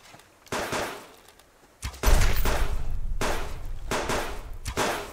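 Gunfire in the survival video game Subsistence, a single sharp report followed by a louder close burst of shots, with a heavy thump and continued rattling that trails off over a few seconds.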